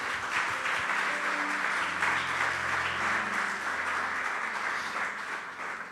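Congregation applause at a Spanish-language church service, loud, steady clapping that carries evenly through the whole stretch with no talking over it.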